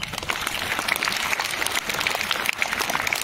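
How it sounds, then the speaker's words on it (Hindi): Audience at a school Labour Day celebration in Dhampur applauds the children, a dense, steady clapping that fills the whole stretch at moderate loudness with no voices standing out. "उन बच्चों के लिए जोरदार तालियां।"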